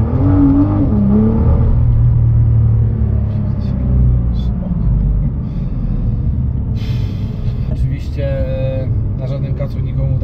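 A Nissan GT-R engine drones steadily while driving, a continuous low rumble with rising revs, heard beneath constant voices chatting inside the car.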